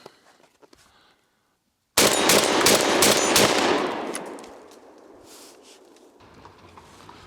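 A 12 gauge Fed Arm FX3 semi-automatic shotgun firing Winchester Universal shells, a loud close string of several rapid blasts after a short silence, trailing off into outdoor echo.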